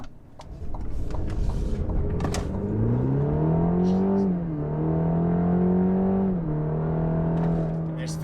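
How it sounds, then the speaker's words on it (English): A 2020 Cadillac CT4 accelerating hard from inside the cabin: the engine note hesitates, then climbs steadily as the turbo kicks in, with a loud droning roar and a brief dip at a shift. "And so it hesitates at first, and then the turbo kicks on, and it does throw you back in your seat a little bit."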